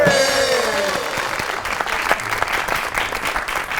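Studio audience clapping on a Pakistani comedy talk show, a burst of many hands that starts under a fading musical sting and then carries on steadily at full strength.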